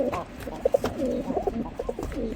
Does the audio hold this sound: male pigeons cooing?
yes